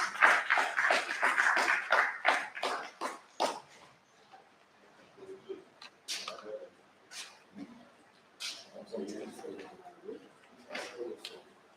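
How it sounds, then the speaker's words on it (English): An audience at a plantain seed stakeholder meeting gives a short round of rhythmic clapping for about three seconds. It fades into a quieter room with scattered sounds and murmured voices. "A round of applause for him, please."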